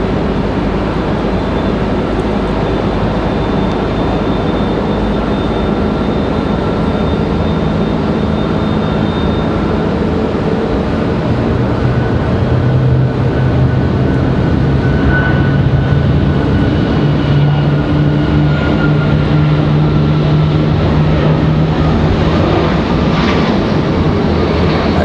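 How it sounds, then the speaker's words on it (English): An Alaska Airlines 737 jet taking off from an airport, a loud sustained engine roar with rising and shifting whines as it accelerates and climbs away, steady and unbroken, with no talk. "All right, Alaska off and going here."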